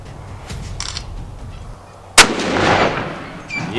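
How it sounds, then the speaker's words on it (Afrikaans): A single sharp rifle shot cracks out while hunting in the bushveld, a loud sudden report followed by a long rolling echo through the open landscape. "sit die eerste skoot in die kol"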